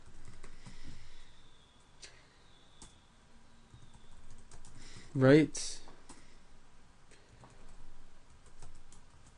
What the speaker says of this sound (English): I'm typing too fast and I'm making mistakes.